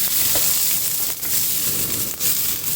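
Spicy pork belly and onion sizzle loudly in a hot pan, a dense continuous frying hiss punctuated by two or three sharp scraping tosses.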